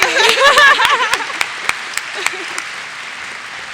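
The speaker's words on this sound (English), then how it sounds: "Give her a round of applause, everybody." An audience at a Hampshire College lecture panel claps and cheers loudly at first, then the applause thins to a few scattered claps and fades out.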